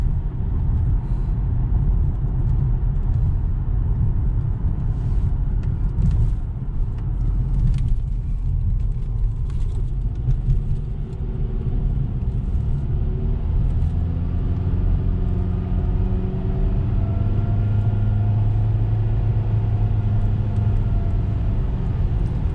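A car with a CVT transmission drives along a road, heard as a steady, loud low rumble of road and engine noise with a smooth, gradually rising engine drone in the second half and no talking.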